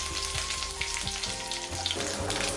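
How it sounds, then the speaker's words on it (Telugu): Mustard seeds and fennel frying in hot oil for a curry, a steady loud sizzle with dense crackling pops spread across the whole stretch, no voices. "ముందుగా ఆవాలు వేసి అవి చిటపట్లాడేంత వరకు వేయించాలి"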